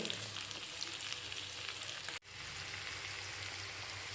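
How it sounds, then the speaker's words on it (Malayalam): Fish coated in masala with curry leaves on top fries in a pan, a steady broadband sizzle that briefly cuts out for an instant midway before resuming at the same level. "ഇനി നമുക്ക് ഈ മീനൊക്കെ ഫ്രൈ ചെയ്തെടുക്കാം"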